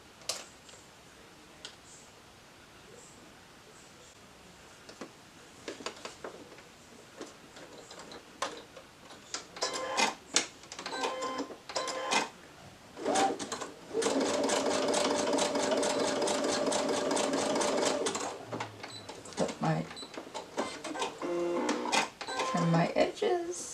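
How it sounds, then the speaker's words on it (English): Sewing machine running a zigzag stitch through fabric for a headband, short bursts of rapid mechanical ticking before a steady loud run of several seconds, then stopping with handling clicks. "I'm going to throw a zigzag stitch through that."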